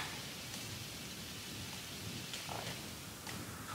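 Muffled rain falling on a cave roof in the video game Undertale: a steady, soft, even hiss with a low rumble underneath, running without a break and with no voices.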